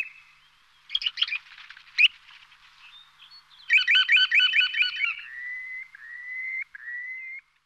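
Songbirds near a field sown for birds in Kocaeli, Turkey, giving clear close chirps, rapid trilled phrases and a few drawn-out whistles in a quiet setting, with no talk.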